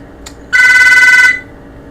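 A telephone rings once in a single sustained electronic burst of bright tones lasting under a second, loud and close, with a quiet room around it.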